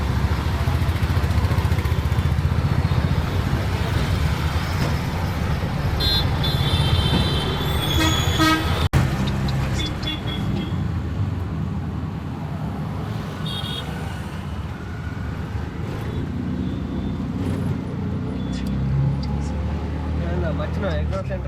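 Busy Karimnagar city traffic with motorcycles and cars rumbling close by, a car horn tooting several times around the middle. Continuous loud road noise runs throughout, and people talk over it.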